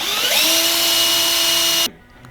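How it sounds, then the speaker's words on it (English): A power drill with a 3/16-inch bit boring a pilot hole whines steadily at high speed for about two seconds, then cuts off abruptly, leaving quiet room tone. "drilled out with your 3/16 bit, your pilot hole"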